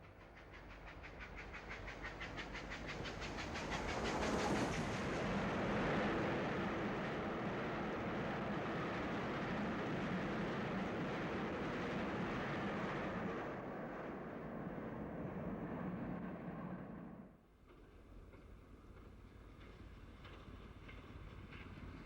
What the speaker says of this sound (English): these magnificent night shots show the everyday trains on the fast lines